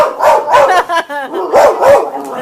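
A pet dog barks at a swimming toy shark in a front living room, giving several loud, close barks with a few whimpering yips in between.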